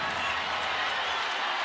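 Broad, steady roar of a basketball arena crowd cheering as Connecticut attacks in a WNBA game against Indiana, sustained and even throughout with no distinct voices standing out.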